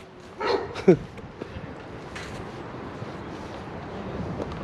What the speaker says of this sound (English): the dog's still shouting